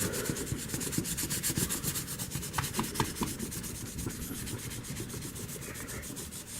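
Soft, steady rubbing of a cloth polishing a GI Joe Skystriker toy canopy, a faint close scrubbing with repeated back-and-forth strokes and no talking.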